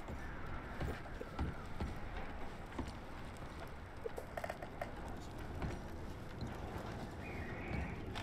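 Horse in Red Dead Redemption 2, hooves clip-clopping steadily at close range with faint ambient outdoor sound, no talk over it.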